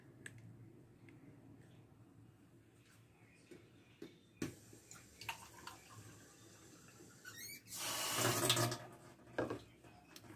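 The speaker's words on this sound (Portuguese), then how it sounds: "vou colocar água agora" Water poured into a container already holding vinegar, on a kitchen coffee counter: a short, louder gush near the end follows quiet handling clicks and faint taps, close by and without talk.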